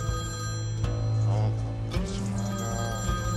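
Telephone ringing in a Turkish TV drama scene, a steady electronic ring tone holding for several seconds over a low background hum, fairly loud and close, with no clear speech.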